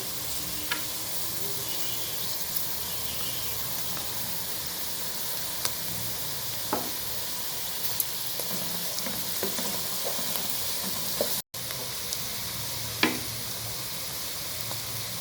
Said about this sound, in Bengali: সবজি হালকা ভেজে নিয়েছি, এখন পেঁয়াজ কুচি দিয়ে দিচ্ছি।